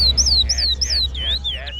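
Small birds sing in a run of bright, repeated chirping phrases, fairly close and clear over a steady low background hum.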